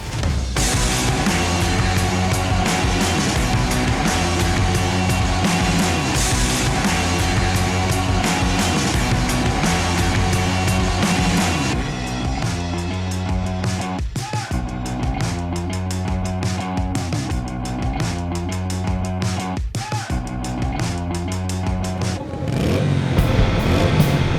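The engine of a Brixton Cromwell 1200X motorcycle rumbles loudly at close range, settling into a steady throbbing idle and then repeatedly revving up and dropping back.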